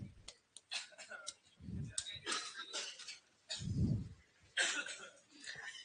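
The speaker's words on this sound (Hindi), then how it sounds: "अरे इतनी खांसी कब से होगी तुम्हें?" Several harsh coughs sound close by, separated by clicks, light clatter and shuffling.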